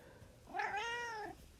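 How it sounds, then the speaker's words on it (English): A pet cat gives a single clear, drawn-out meow close by in a quiet room, rising then falling over about a second. "meow, my cat, she's so noisy."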